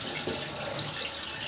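Water runs into a basement drain stack, giving a faint, steady hiss and trickle that holds level throughout with no talking.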